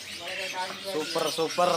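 Caged songbirds, including kacer (magpie robins), chirp and warble densely at a bird market, with rapid overlapping calls close by and someone speaking briefly over the chorus.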